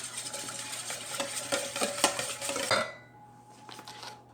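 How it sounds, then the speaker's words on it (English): Melted butter and an egg whisked together in a bowl for keto baking, a close run of quick rhythmic clinks and scrapes of the whisk against the bowl that stops abruptly near the end, with no voices. "Whisk this up."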